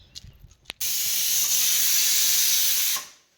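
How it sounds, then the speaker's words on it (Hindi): A pot of dal coming to the boil in a home kitchen lets out a loud, sustained burst of steam hiss for about two seconds after a few small clinks, then cuts off sharply. "दाल बॉईल होने वाली है"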